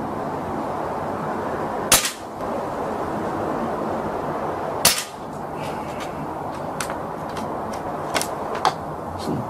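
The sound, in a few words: Kalibrgun Cricket air rifle shots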